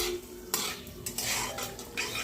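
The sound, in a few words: potatoes added and stirred into frying spices in pan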